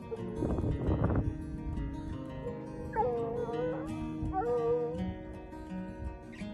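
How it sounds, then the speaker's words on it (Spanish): Tracking dogs near an old mining ghost town give a burst of yips and whimpers, then long rising howls, fairly close and loud over a low background murmur, with no clear talk. "los perros están rastreando por aquí"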